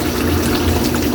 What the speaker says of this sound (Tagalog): maglagay tayo ng isang basong tubig Kylie